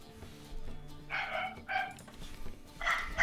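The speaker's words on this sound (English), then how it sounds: "Shut up the dog." A dog barks in a room, three or four sharp yips spaced about a second apart, moderately near, over a faint background murmur.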